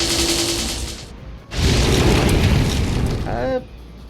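Fire magic attack in the video game HyperDimension Neptunia Re;birth 1, a loud roaring burst that cuts in abruptly after a brief gap and rages for about two seconds, with a short voiced exclamation near the end.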